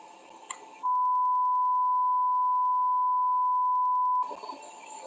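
A steady censor beep, a single continuous pure tone lasting over three seconds, loud and alone, cutting into a stretch of conversation about what happened.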